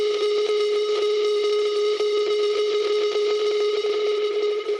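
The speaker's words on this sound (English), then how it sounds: "this drone is still playing the whole time" Sustained synth drone layer in an electronic music production, a steady tonal hum with stacked harmonics holding constant and loud throughout, with faint rhythmic ticks underneath.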